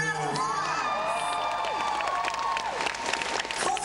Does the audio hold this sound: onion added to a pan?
no